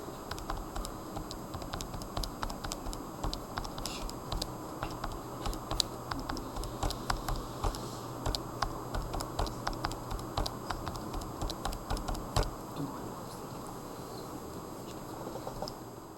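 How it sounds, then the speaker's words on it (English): Keys are tapped in quick, irregular bursts, close and fairly quiet, as numbers are typed on a calculator keypad, with no talking. "Once you get done typing all of your numbers in L1, you can use the arrow key to move over to L2 and then type in the calorie"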